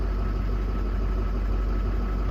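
A Duramax diesel work truck with about 432,000 miles idles steadily, a close, constant low rumble with no voices over it.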